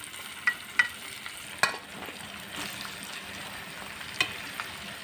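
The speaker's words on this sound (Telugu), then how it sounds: "తాలింపు అయిపోయినాయి కదండి ఇప్పుడు బెండకాయ ముక్కలు వేసేసుకున్నాం" Okra pieces fry in a pan with a constant soft sizzle, while a utensil stirs them with a few sharp scrapes and taps against the pan.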